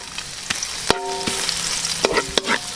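Garlic and ginger sizzle loudly in a hot pan as the first step of a braised pork hock dish, with a steady crackle and a few sharp clanks of a utensil stirring against the metal.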